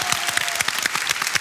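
Audience applause in a television studio, loud close clapping with sharp individual hand claps standing out from a lively crowd, continuing for a short burst.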